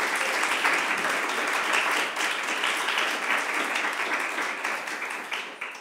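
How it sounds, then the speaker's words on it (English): Sustained audience applause fills a poetry reading hall at Harvard, a dense steady wash of many hands clapping at an even level for several seconds, trailing off slightly at the end with no talk. "Can we have one more round of applause for Jesse McCarthy?"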